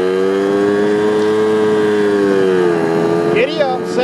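A Yamaha Towny moped revs hard as it accelerates, the engine whine climbing steadily and then dropping with the shift into second gear before rising again, loud and close, with wind buffeting near the end.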